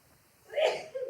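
A single short, sharp sneeze bursts out close by, with a brief breathy tail and a small follow-up catch of breath.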